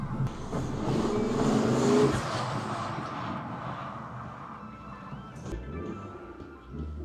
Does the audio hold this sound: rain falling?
no